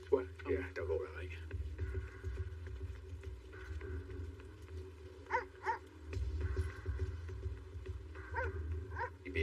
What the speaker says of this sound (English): dog unit is on a full search of the area